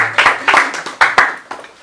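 A small group at a book launch event claps in short, uneven bursts, several separate sharp onsets trailing off over a couple of seconds, fairly close and loud with no talking.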